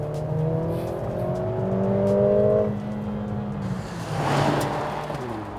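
A 2021 Mercedes-AMG GLA 45 accelerates hard, its engine note climbing through rising revs, dropping at a gear change, then surging again with a loud, close whine and roar.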